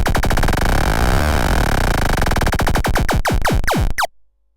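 One held synthesizer note as its LFO rate dial is swept, the wobble speeding and shifting into a buzzy, warbling tone, loud and continuous before stopping abruptly near the end.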